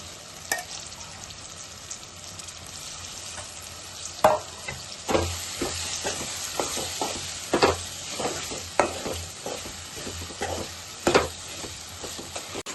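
Cashews sizzle in hot oil with ginger garlic paste for an egg curry, under repeated scraping and knocking as a spoon stirs the pan close by.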